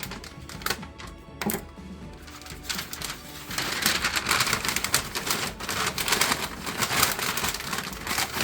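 A smoked pork butt gets rolled up in butcher paper, with rapid crinkling, rustling paper and soft thumps as it is folded and wrapped, close and alone without talk.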